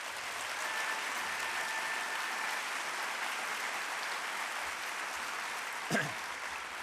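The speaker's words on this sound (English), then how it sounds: "Would you please stand and let us give you a round of applause." A large audience at a university convocation gives a sustained round of applause, dense steady clapping filling the hall, with a brief thump near the end and no talking over it.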